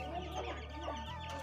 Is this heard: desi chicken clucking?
yes